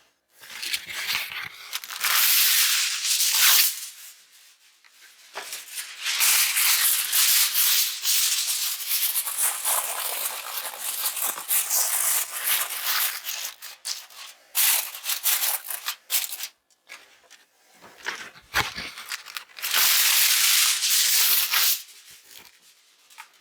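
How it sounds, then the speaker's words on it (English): Aluminum foil is torn and handled while preparing a bone-in pork shoulder, producing loud close crinkling and rustling in repeated long bursts separated by short quieter gaps, with no talk. "Get ourselves some aluminum foil."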